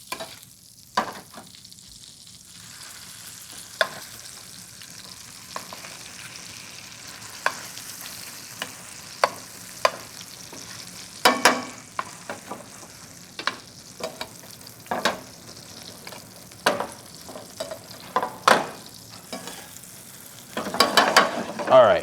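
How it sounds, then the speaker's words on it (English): Salmon sizzles quietly in a pan of foaming butter, with a soft steady frying hiss broken by repeated clinks and scrapes of a utensil stirring and basting. "Get that butter nice and foaming, not burnt."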